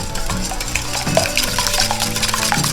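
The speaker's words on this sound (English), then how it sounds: "Constantly stirring it. We don't want to cook the egg, we want to bring it up to the same temperature." A utensil stirs hot custard base being tempered into eggs for homemade ice cream, making quick, continuous scraping strokes against the pot, close and fairly loud, with a soft simmering sizzle underneath and no talking.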